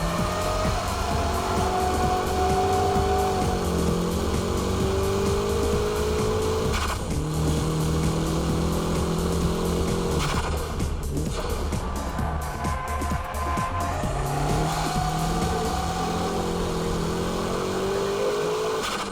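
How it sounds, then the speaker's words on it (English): A car drifting at high speed with a sustained engine roar and wavering high-pitched tire squeal that rises and falls through long slides, loud and continuous throughout. "With the high-speed drifting, traction recovery is very quick"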